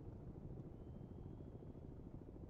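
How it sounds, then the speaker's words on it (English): A helicopter in the naval game Cold Waters, heard from a submarine at depth in the South China Sea, gives a steady, muffled low rumble with continuous rotor throb, distant and unbroken throughout. "I hear a helicopter."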